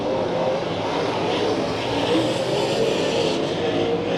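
Late model race cars roar around the Santa Maria Raceway track in a heat race, a continuous, loud engine drone with rising and falling revs as the pack circulates.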